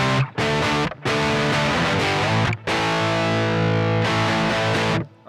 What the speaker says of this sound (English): Here's the sound of the compulsive drive all by itself.